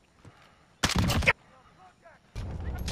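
Gunfire in the Call of Duty Warzone video game: a loud burst of shots lasting about half a second, then quieter game sounds, then a second sustained burst near the end.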